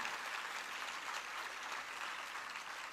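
An audience applauds at a public ceremony, a dense, steady wash of clapping from a crowd, heard at a distance and fairly faint throughout.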